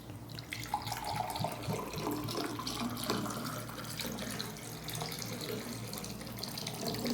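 Tap water running steadily into a glass, a continuous soft splashing and pouring at close range, fairly quiet with no talk over it.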